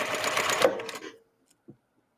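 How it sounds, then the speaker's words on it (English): A sewing machine stitches an oven mitt in a quick, close run of about a second, then stops abruptly. A couple of soft clicks follow in the quiet. "Line up those raw edges, keep sewing in that crease."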